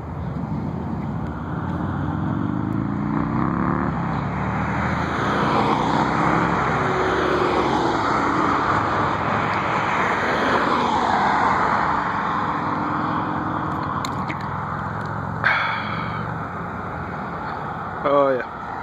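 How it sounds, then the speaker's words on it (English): An airplane passes overhead near BWI airport, a loud sustained jet roar that swells and lingers across the whole stretch, with people talking intermittently beneath it. "Oh yeah, it's another plane up there."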